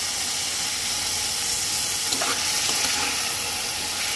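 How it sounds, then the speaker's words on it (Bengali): Boiled taro fries in a pan with onion and ginger paste, giving a steady close sizzle throughout with a brief stirring scrape in the middle and no talking. "আমি কচুটাকে কয়েক মিনিট একটু ভেজে নেব।"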